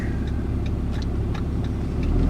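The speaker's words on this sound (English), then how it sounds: "Up and down shifts, the more you can do it, the quicker it'll come together." Diesel truck fitted with a 68RFE automatic transmission driving on the road, a steady engine drone with faint regular ticking over it as it shifts up and down.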